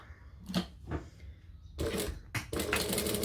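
A sewing machine stitching a diagonal seam in red thread for homemade piping: short quiet bursts of whirring at first, then a longer, louder run of stitching toward the end, with no talk.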